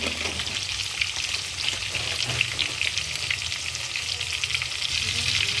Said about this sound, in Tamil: தக்காளி வெங்காயமும் நல்லா வதங்கட்டும்